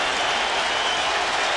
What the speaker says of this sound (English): This is as into it as we've heard the crowd here this year